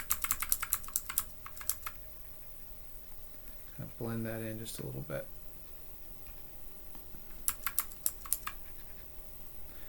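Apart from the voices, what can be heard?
computer keyboard bracket keys clicking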